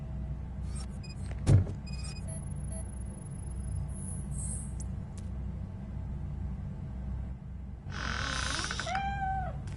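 A cat meows in the video game RoboCop: Rogue City, a short rising cry late in the clip following a faint whine, over a steady low game ambience with a brief thump early on.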